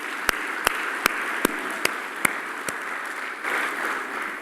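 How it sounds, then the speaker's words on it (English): Audience at an airport corporate awards event clapping, a few sharp, evenly spaced claps standing out over a soft wash of general applause that fades toward the end, moderately distant. "I think they all deserve a warm round of applause"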